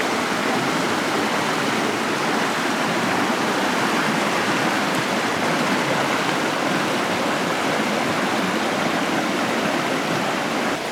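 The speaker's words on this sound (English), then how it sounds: "Walk on down and sit by the nice cool creek." A cool creek flowing beside a Forest Service road in Montana's Bitterroot area, a loud, constant rush of water close by with no pauses or voices.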